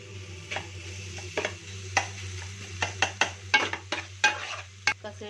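Onions frying in a pan for mutton keema curry, with a low steady sizzle punctuated by repeated sharp scrapes and taps of a spatula stirring against the metal; no voices.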